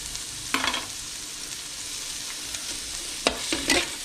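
Ground chicken frying in a pan for chop suey guisado, a steady hiss of sizzling broken by a few sharp stirring scrapes near the start and end, close up with no voices.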